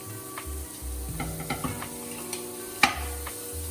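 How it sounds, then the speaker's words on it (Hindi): Paneer sizzles as it goes into a pan of frying samosa filling, with steady frying hiss, stirring scrapes and a sharp metallic clink of a utensil near the end. "अब हम इसमें पनीर डाल देंगे।"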